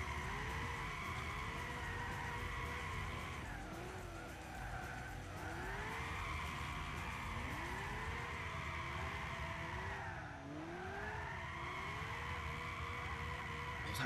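A 1965 Shelby GT350 drifting at full throttle in the video game Gran Turismo 6, with a steady high engine roar and continuous tire squeal whose pitch rises and dips through the bends.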